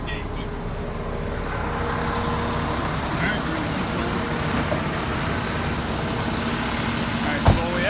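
A Clayville fire department engine idles with its pump engaged, a steady low mechanical rumble and drone holding evenly throughout, with a brief sharp knock near the end.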